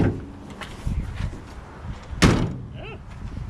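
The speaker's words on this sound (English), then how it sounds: "I'll just open my door here with the original door handle" The original door handle of a 1957 Chevy Bel Air is worked and the door opens, giving a soft rattle and then a single loud, close metallic thunk.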